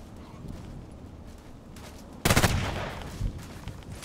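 An HK G36C rifle fires a sudden burst in the Contract Wars shooter, a sharp loud crack with a short echoing tail, rising sharply out of quiet background noise.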